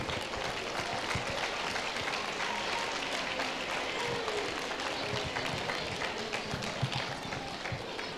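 Audience applauding a university rector as he is called to the stage at a FIRST LEGO League closing ceremony in Madrid; dense, steady clapping from a crowd fills the whole stretch, with faint voices mixed in.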